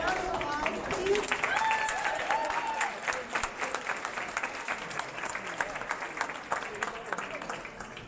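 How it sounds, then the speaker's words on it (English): Audience at a high school choir awards night breaks into a long, dense round of applause, loud and sustained throughout, with a few voices calling out and cheering over the clapping. "One more big round of applause, please."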